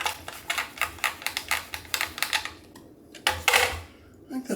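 A knife thinly slicing a white onion on a cutting board, a quick run of crisp, evenly spaced chops up close, pausing briefly before a few final cuts.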